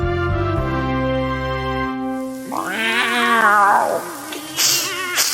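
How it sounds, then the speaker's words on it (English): Cats meowing and caterwauling close up in a shower, with drawn-out wavering yowls that rise and fall, over a background of music or tonal sound at the start. "Those crazy cats got to get out of this shower right now"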